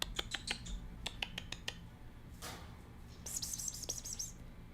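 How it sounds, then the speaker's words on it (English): Birds call indoors with a run of sharp, quick chirps, a brief rustle, then a brighter burst of tweeting near the end, fairly close and clear. "The birds are calling her now."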